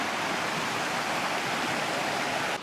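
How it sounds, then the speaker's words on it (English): A creek runs past a swimming hole in the Gold Coast hinterland, giving a steady, close, broadband rush of flowing water that stays even throughout, with no voices. "there's just this creek flowing through and a bit of a swimming hole there, and nice sort of water flowing through there"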